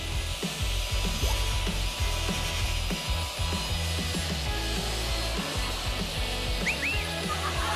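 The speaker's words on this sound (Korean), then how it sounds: "옆으로 자르는 기계라서 횡절기라고 하는." A crosscut saw machine rips through wood in a woodworking workshop, giving a steady, loud buzzing drone with a rough grinding edge that runs without a break.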